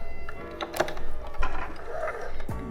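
A sewing machine back-stitches at the end of a seam on a four-square bag, giving short bursts of close mechanical whirring and clatter over about three seconds.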